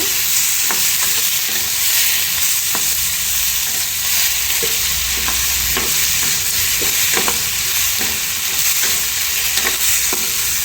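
Masala sizzles steadily in a hot pan while being sautéed for chana masala puri, a continuous close frying hiss with regular scraping stirs of a spatula, no talk.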